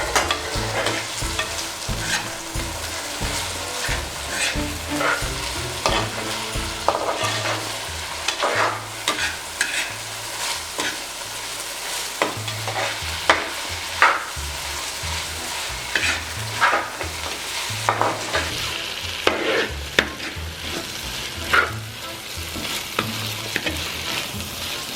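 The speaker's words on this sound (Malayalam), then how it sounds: "അപ്പോൾ ഇതിലേക്ക് നമ്മൾ കുറച്ച് ഉപ്പ് കൂടിയിട്ട് ഒന്ന് വഴറ്റിയെടുക്കാം." Tomatoes with salt sauté in a pan for a Chettinad mutton roast, a continuous sizzle broken by repeated scraping and stirring strokes of a spoon.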